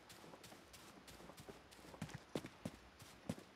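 Horse hooves in the video game Rustler clip-clop in an uneven run, faint and low, with the thuds growing a little firmer toward the end over quiet background noise.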